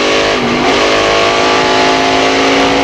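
A restrictor-plate race car engine roars loudly and steadily as it accelerates hard on the throttle at New Hampshire, close and continuous, with no talking.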